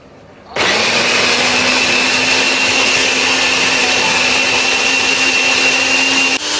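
A blender starts abruptly and grinds chili and dried shrimp with a little water at a steady high whine for several seconds, loud and close, then cuts off.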